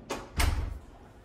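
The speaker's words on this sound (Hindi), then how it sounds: "मैं दरवाजा बंद कर देता हूँ" A house front door is pushed shut, a short scrape followed by a solid thud close by, then quiet room tone.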